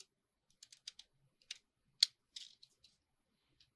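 Stamp-edge decorative scissors cutting paper, giving a sparse series of crisp, close snips and clicks at an uneven pace against near silence.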